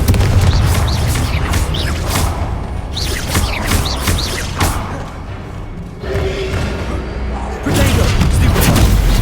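Confringo fire spell explosions in the Hogwarts Legacy video game, repeated loud booming blasts and thuds in a busy combat mix, with a voice calling out over them.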